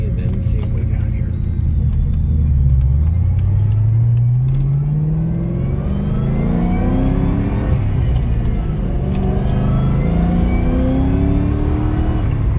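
A 2003 Saleen Mustang with an intercooled Kenne Bell supercharger pulls away, its engine rumbling loud and close as it climbs through the revs, eases off, then accelerates again with a rising whine.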